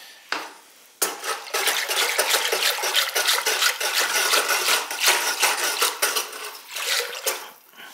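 Red iron oxide slip being stirred and mixed in a bucket with water for dipping pottery tankards, a steady wet sloshing and splashing that starts abruptly and continues close and loud for several seconds.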